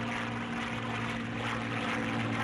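Propeller warplane engine droning steadily in flight just after takeoff, heard from inside the cockpit as a loud continuous hum with a strong fixed low tone and no speech.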